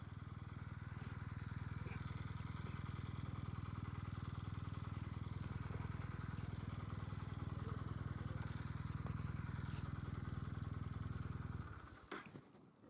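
A Kawasaki Meguro K3 motorcycle engine runs steadily and close by on a ride through the Japanese countryside, a continuous low throb that cuts off abruptly near the end.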